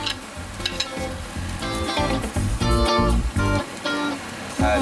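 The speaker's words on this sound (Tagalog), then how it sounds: "papainitin na natin yung sizzling plate natin. Tapos lalagay na natin yung ating sibuyas." Canned meatloaf with onions and sauce sizzling loudly on a hot sizzling plate, bursts of close crackling and spitting that swell and fade in waves, with no talk over it.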